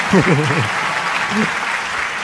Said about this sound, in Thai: ลุกขึ้นยืนรับเสียงปรบมือจากทุกท่านในห้องนี้ด้วยค่ะ